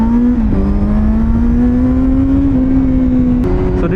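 A superbike's exhaust holds a loud, steady droning note that climbs slightly in pitch, with brief dips and a quick blip near the end, heard alone and close.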